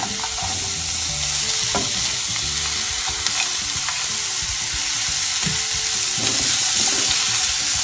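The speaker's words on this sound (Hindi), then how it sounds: "इसे भी हम सौते कर लेंगे।" Carrots sauté in a hot pan for chicken noodle soup, giving a continuous close sizzle. Intermittent stirring clatters and scrapes run through it, with no voice.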